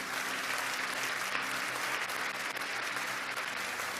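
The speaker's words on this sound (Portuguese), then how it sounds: "Pode bater palmas se você quiser" A church congregation claps steadily and evenly throughout, a dense wash of hands from many people at a constant level.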